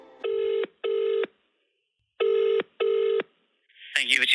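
Telephone keypad tones as an emergency number is dialed in Resident Evil 7: four loud, steady beeps in two pairs separated by a pause, followed by a voice starting on the line.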